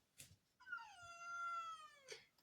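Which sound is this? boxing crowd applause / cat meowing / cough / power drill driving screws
cat meowing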